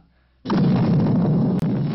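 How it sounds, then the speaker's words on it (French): Film-set cannon artillery firing, a sudden loud boom that cuts in and rumbles on as a sustained roar, with a brief sharp crack near the end. "Quand tonne l'artillerie de cinéma, souvent le décor en attrape un coup"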